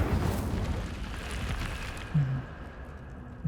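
Incendio fire spell in Hogwarts Legacy erupts with a rushing, crackling roar of flame that fades over a few seconds, with small tonal interface blips toward the end.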